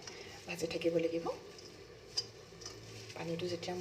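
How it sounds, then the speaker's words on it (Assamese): Green tea leaves stirred and roasted by hand in a hot wok give soft scraping, rustling strokes in two bursts, with faint sizzling underneath and a brief knock between them. "এনেধৰণে মই হাতেৰে লৰাই ভাজি থাকিব লাগিব"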